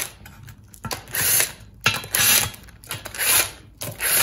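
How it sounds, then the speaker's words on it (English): Transmission pan bolts come off a Mopar 904 automatic transmission, heard as four close bursts of whirring, clicking tool mechanism, each about half a second long, separated by short pauses. "first thing, get the pan bolts off"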